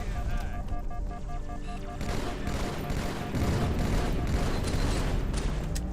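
Enemy gunfire rattles in Halo 2 Anniversary, dense rapid bursts of shots and booms that layer over a busy game soundtrack and grow heavier partway through.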